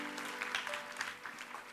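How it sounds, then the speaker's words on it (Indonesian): An audience at a church Bible study applauds for Jessica, producing a faint, steady wash of applause from a room of people with no clear speech. "Kasih tepuk tangan untuk Jessica."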